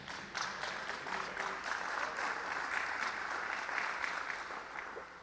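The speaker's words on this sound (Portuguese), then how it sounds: "aplauda o nome do Senhor." A church congregation applauds in a steady, fairly distant wash of clapping that continues evenly throughout.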